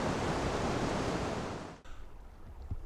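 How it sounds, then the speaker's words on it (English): Fast-flowing river water rushing through a rapid in a wooded gorge, a steady loud broadband roar that drops away abruptly partway, leaving a fainter rumble. "The fast water up there is a rapid."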